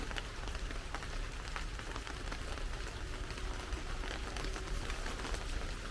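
Light drizzle falling steadily outdoors, a soft continuous patter of scattered raindrops on surfaces with faint clicks, fairly even in level throughout with no voices.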